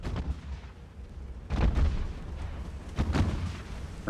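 Heavy naval guns of a warship auto-firing during a battle in Ultimate Admiral: Dreadnoughts, with several loud booming salvos at irregular intervals over a steady rumbling background.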